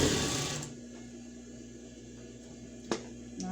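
An industrial sewing machine sews heavy fabric for a pet bed. It runs loudly for a moment, then stops, leaving a low steady hum and a single sharp click near the end.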